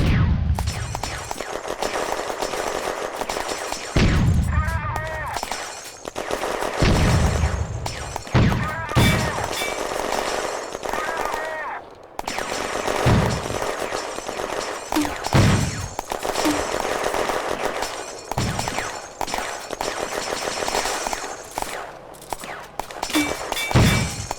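Heavy French rifle and machine-gun fire in the Firefight wargame at the Remilly bridgehead, May 1940, with repeated loud volleys and bursts crackling over a dense battle din, broken by brief lulls and sharp impacts.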